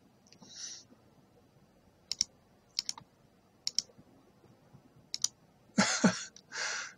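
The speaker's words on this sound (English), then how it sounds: "Click, click." Computer mouse clicks during a game of MOO2 (Master of Orion II): five crisp, close, isolated clicks spaced over several seconds, with a couple of louder rustling bursts at the end.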